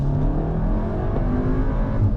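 A car accelerates on the road after a stage 1 engine remap, its steady engine drone and rising rev filling the cabin continuously, loud and close throughout with no talk.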